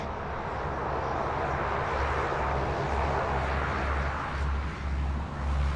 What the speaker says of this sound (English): looks like we're going to have one cleared for immediate takeoff